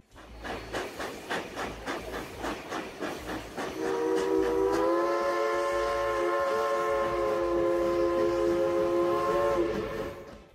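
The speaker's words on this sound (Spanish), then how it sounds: "El tren tiene que ir lo más lentamente posible sobre este puente alto y curvo" A train crawls slowly over a high, curved canyon bridge, its steady rumble joined midway by a long, loud, sustained steam whistle that holds for several seconds before fading.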